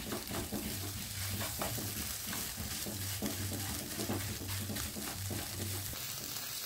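Egg bhujia frying in a kadai: a continuous hissing sizzle with occasional stirring scrapes and a low intermittent hum underneath, moderately faint and without speech.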